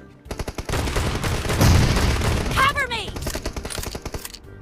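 Rapid shotgun blasts in the PUBG Mobile video game, a dense run of sharp, close, loud reports in quick succession, with a voice briefly rising over the firing midway.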